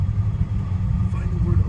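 A car with a 5.0 engine idles steadily after starting, following a vacuum overhaul and amid starter trouble, giving a loud, continuous low rumble close by with no voices over it.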